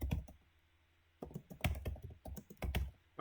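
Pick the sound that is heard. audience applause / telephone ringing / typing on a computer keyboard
typing on a computer keyboard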